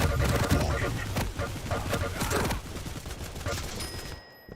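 Rapid heavy machine gun fire in a competitive arena shooter match, dense overlapping bursts throughout with other weapon and game effects mixed in, loud and busy before cutting off near the end.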